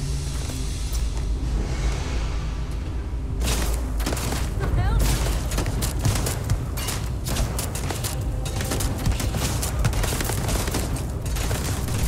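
Gunfire in the sci-fi video game Starfield, with dense bursts of rapid shots and booming impacts rattling on for several seconds after a quieter opening, under game sound and voices.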